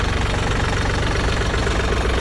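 A 2011 Yanmar EG224 Japanese 4x4 mini tractor engine runs steadily close by, a continuous low knocking diesel rumble with no talk over it.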